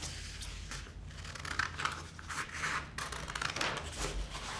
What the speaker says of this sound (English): Next, we're going to take our scissors and start to cut zigzags on it.